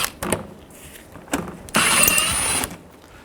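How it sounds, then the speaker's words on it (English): Socket wrench with a 7mm socket working panel bolts loose on a 2010-16 Buick LaCrosse, a few short ratcheting clicks followed by a longer steady whirring burst, close by. "Take these bolts out, use a 7mm socket"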